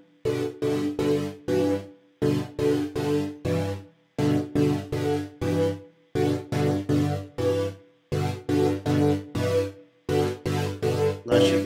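Waves Element synthesizer playing a chord patch with no treble boost, sounding as repeated stabbed chords in short rhythmic bursts, four to a phrase, with a full, somewhat dull upper range and no voices.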